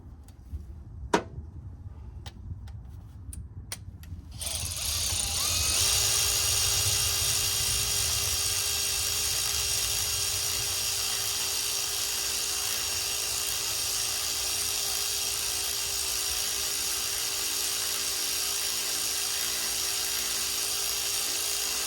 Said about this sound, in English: Didn't like this ratchet to start with, but it's my go-to tool now.